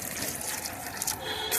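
Water pours steadily into a potted rose in a plastic pot on a rooftop garden, a short close gush and trickle heard alone.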